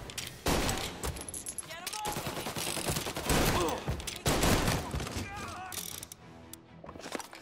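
Tommy gun fire in Mafia Definitive Edition, rapid bursts of automatic shots in several volleys mixed with mechanical clicks and other game sounds, while a person talks over the shooting.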